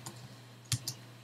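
A few quick, faint key clicks as a command is typed on a computer keyboard while setting up a Minecraft Bukkit server plugin.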